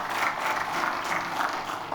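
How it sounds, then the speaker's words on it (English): Steady audience applause at the inauguration of the 4baseCare lab in Bangalore, a dense, even wash of many hands clapping together throughout. "So one more round of applause"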